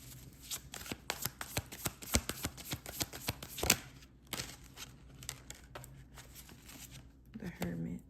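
A tarot deck is shuffled by hand at close range, giving a quick run of crisp riffling and slapping card clicks in uneven bursts that pause briefly and then resume.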